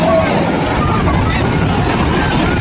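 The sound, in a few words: boat ride on the sea at Ganpatipule beach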